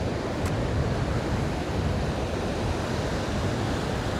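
Sea waves roll into a bay on the Northern Ireland coast, a continuous broadband wash of surf with some wind across the microphone, steady and fairly loud throughout.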